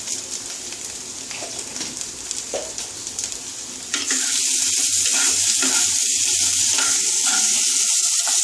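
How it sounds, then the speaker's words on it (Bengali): Spices fry in oil in a pan for a dosa curry with a dense, loud sizzle, quieter stirring and crackling at first, then a sharp jump into an intense hissing spit. "বেশি ভাজার দরকার নেই, অল্প করে ভেজে আমি জল দিয়ে দেব।"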